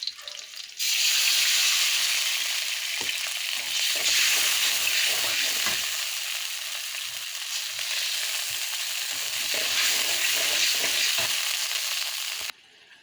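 Onions, chillies and spices fry in hot oil with a loud, continuous sizzle and occasional stirring scrapes. The sound cuts in sharply and stops near the end.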